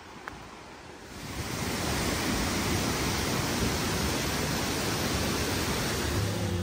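A waterfall in Laos roars as broad, steady rushing water noise, loud and continuous, swelling up after a quieter first second and then holding level with no voices.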